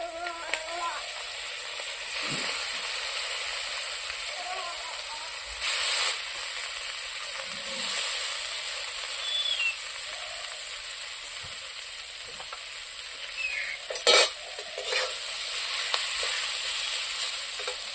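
Mustard greens with a few green chillies fry in a pan, a soft steady sizzle with occasional stirring scrapes and clinks heard close up, with no talk.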